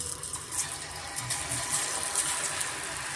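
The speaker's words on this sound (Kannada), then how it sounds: "ಇವಾಗ ನಾನು ಎಣ್ಣೆಯಲ್ಲಿ ಸೇರಿಸ್ತಾ ನೋಡಿ" Green peanut masala mixture dropped into hot oil for deep frying gives a dense, even hiss and crackle of bubbling oil throughout, close and steady, with no voices.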